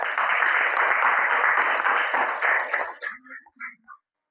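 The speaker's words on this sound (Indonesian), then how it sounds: "Kasih tepuk tangan untuk kelompok B" Classroom applause for a student group after a science presentation on plants and sunlight, a dense burst of clapping for about three seconds that quickly thins to a few scattered claps and stops.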